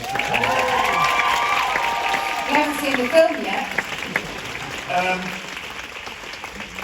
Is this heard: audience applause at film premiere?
yes